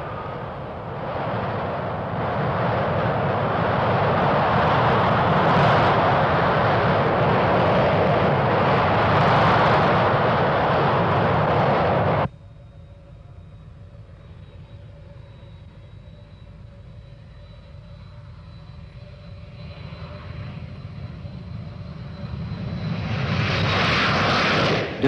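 A BAC One-Eleven 475 jet airliner flies overhead with a loud, steady roar for about twelve seconds, then drops to a distant, thinner engine whine that swells again near the end.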